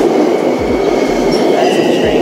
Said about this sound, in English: That's the train going the other way.